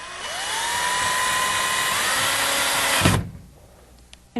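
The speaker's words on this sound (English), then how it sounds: "using a drywall screw and your drill, screw right through the bottom of the bracket and into the wall" A power drill whines steadily at close range for about three seconds, with a slight pitch drop as it drives a drywall screw through a bracket into a wall, then stops abruptly into quiet.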